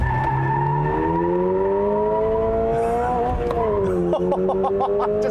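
A 2022 Toyota GR 86 sports car does a hard launch that leaves tire marks. The engine note climbs loud and close, and the tires chirp briefly near the end.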